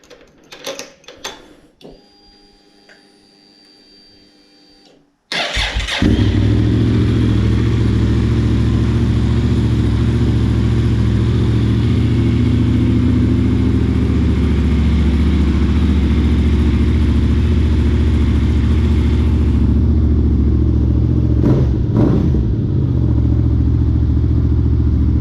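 Yamaha TDM900 motorcycle from 2012 revved hard at close range: a few short blips, then a loud, sustained high-revving engine roar that holds steady for most of the clip before dropping back.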